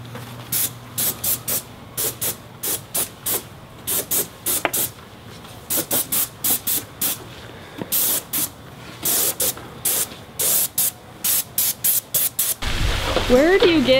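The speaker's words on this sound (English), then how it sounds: "one place where you're gonna get overspray is the overspray whipping around a corner" An airless paint sprayer sends paint around a corner in repeated short bursts of loud hissing spray, a steady rhythm of on-off blasts with a brief rougher sound near the end.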